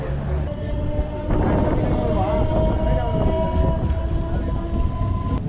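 A MEMU passenger train on the Tiruvannamalai to Chennai Beach run rumbles along the rails, a loud, continuous clatter heard from on board, with steady tonal whines running through it.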